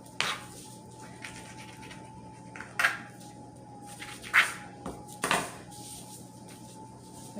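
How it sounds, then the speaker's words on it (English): A knife cuts small pieces off a raw salmon fillet on a board for steamed salmon, giving a few sharp scraping and clinking strokes spaced a couple of seconds apart over a steady low kitchen hum. "I'm just going to cut these little pieces off right here"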